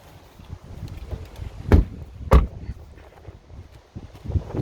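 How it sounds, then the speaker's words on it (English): A door on a 2019 Audi Q3 Sport 35 TFSI S tronic shuts with two sharp, close thuds, set against faint rustling and quiet handling sounds inside the car. "Let me just shut that door so we get a through drive."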